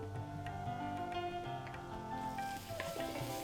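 Carrots tipped into a sizzling pan for Thai pineapple fried rice, a steady moderate frying hiss with light stirring scrapes and clatter.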